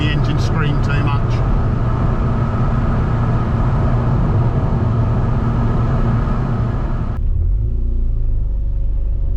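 A classic Mini Cooper S Sport 5 engine drones loudly and steadily from inside the car while driving, a heavy low rumble that continues throughout, with a voice talking over it.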